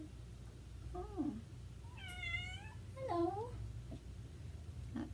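A cat meows three times over a steady background hum, each call a drawn-out wavering cry, and a person says a brief word between them.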